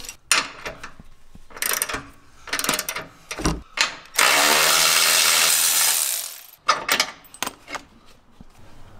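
A hand wrench works a shock bolt loose on a Jeep JL Wrangler during a 2-inch lift kit install, giving sharp ratcheting clicks in close, separate bursts, with a long rasping metallic stretch in the middle.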